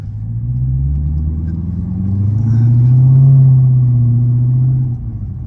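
Chevrolet C7 Corvette Z51 exhaust with secondary cats and muffler deleted, a deep close rumble that swells as the car pulls away, peaks, then eases back to a lower idle-like growl.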